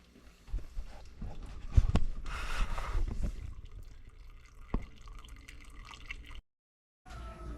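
Chokecherry juice drains from cooked fruit, giving soft, irregular drips and trickles over a steady background wash. A short silent gap comes near the end before the sound resumes.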